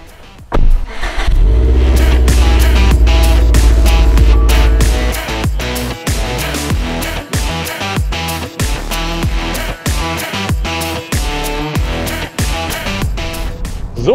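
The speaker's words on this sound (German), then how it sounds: "Und wie der Subaru klingt und wie er sich fährt, das testen wir jetzt." A 2017 Subaru WRX STI with a 2.5-litre turbocharged engine rated at 300 hp revs loudly and close by, with a long sustained roar followed by a rapid series of sharp throttle blips and rev bursts.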